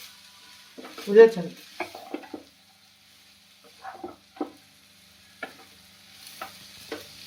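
Maggi noodles frying in a pan get stirred with a spatula: a few bursts of scraping and clinking separated by quiet gaps, with a faint sizzle and a brief spoken word.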